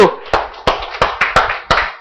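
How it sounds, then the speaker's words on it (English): Sharp hand claps in a medical coaching classroom, roughly seven quick, loud slaps spaced unevenly over two seconds, with faint room voices underneath. "please one loud clap"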